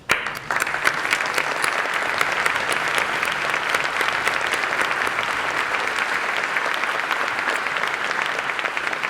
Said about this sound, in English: Would you all please stand for a moment of applause?